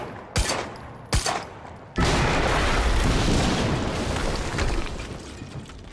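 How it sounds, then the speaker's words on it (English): Explosions in the Quantum Break game: two sharp separate blasts, then a huge loud boom with a long, dense, rumbling roar that slowly fades. "HQ, we just heard an explosion near the harvesting perimeter."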